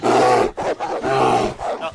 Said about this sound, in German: Da kommt ein Wolf.